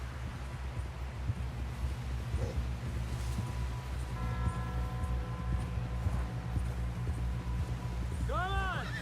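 Horses gallop in Red Dead Redemption 2, a quiet steady clip-clop of hooves beneath game music tones, with a whinny near the end and voices talking over it.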